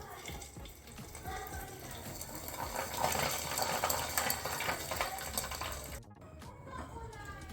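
Garlic and carom seeds sizzle in hot oil, giving a steady, crackling hiss that swells and fades slightly before dropping off near the end.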